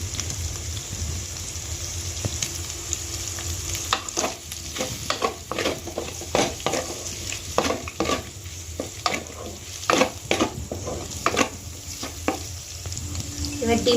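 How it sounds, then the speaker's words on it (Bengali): An egg fries in a pan while being stirred, with a constant close sizzle overlaid by frequent scraping and tapping strokes of a spatula against the metal that come in irregular bursts. "এবার ডিমটা ভাজা হয়ে গেছে,"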